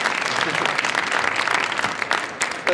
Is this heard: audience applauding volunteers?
yes